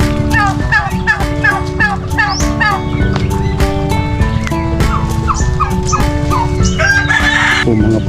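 Turkeys on a backyard farm gobble in a loud, continuous chorus of warbling calls, with chickens and roosters crowing and clucking among them, close and crowded throughout.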